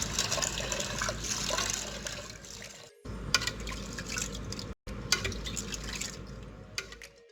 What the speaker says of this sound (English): Let us rinse and thoroughly wash all these lentils with tap water